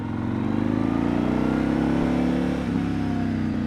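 A Yamaha MT-01 SP motorcycle engine drones steadily up close while riding in Hakone, Japan, its pitch holding and shifting slightly under a rush of wind noise.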